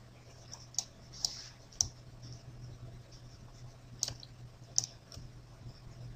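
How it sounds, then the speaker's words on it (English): Computer keyboard keys pressed during 3D modelling software work, a handful of sharp, isolated clicks spaced irregularly over a faint steady hum, close and fairly quiet with no talk. "let's press Alt W on the keyboard to maximize"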